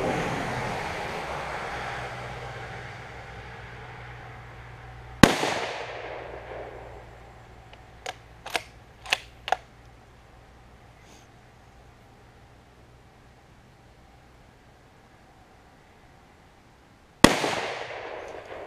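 Two sharp, loud .223 rifle gunshots about twelve seconds apart ring out over steady outdoor hum, with a few quick clicks of the rifle's action in between.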